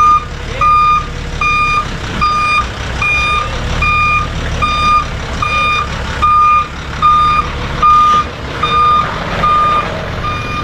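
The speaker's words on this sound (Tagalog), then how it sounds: "Naka wing van type." Wing van truck backing up, a loud repeating reversing beep pulsing at a steady rhythm over a rumbling diesel engine, no talk.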